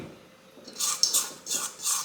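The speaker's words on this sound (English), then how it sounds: "Just make sure everything's getting stirred in there really good." A spoon stirring banana walnut muffin batter in a bowl: soft scraping strokes that grow more audible partway through, with a few light clinks against the sides, close and unaccompanied by speech.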